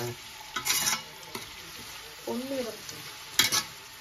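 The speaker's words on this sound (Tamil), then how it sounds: "வெங்காயம் பொன்னிறமாகும் வரை கிளறவும்" Onions fry in a pan and are stirred until golden, for a mutton biryani and chicken gravy cooked by students. A quiet sizzle sits under intermittent scraping stirs, with a brief voice sounding in between.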